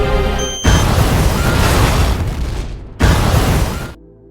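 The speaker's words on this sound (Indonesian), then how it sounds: "akhirnya teman-temannya mengizinkan orang ini untuk meledakkan bom yang sudah terpasang di sebuah restoran" A bomb planted in a restaurant goes off in an action film, as two heavy, roaring blasts that each rumble loudly before cutting away.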